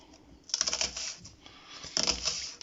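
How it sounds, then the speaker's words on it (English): A knife slices halved red onions thinly on a board, making two short bursts of rapid crisp cuts close by. "I'm going to cut them in half. I'm going to thinly slice them."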